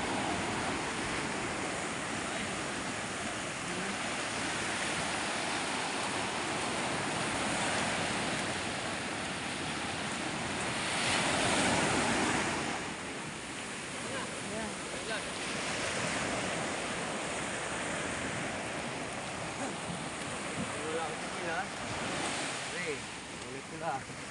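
Steady ocean surf at sea with wind rushing across the microphone, waves rolling in a continuous broadband wash that swells slightly around the middle, heard from a small fishing boat out on open water; no voices.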